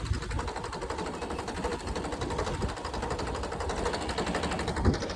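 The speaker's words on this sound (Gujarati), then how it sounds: "અત્યારે 2 ટ્રેક્ટર ચાલુ કરીને જરીક ગરમ થવા દે" Two tractors idle in a village to warm up, their engines making a fast, even chugging rattle that stays steady and moderately loud, with no voices.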